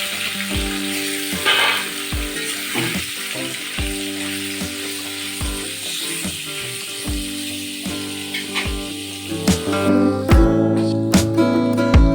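Loud, steady sizzling of turmeric-coated chicken frying in hot oil in a wok, with repeated clanks and scrapes of a spatula stirring throughout.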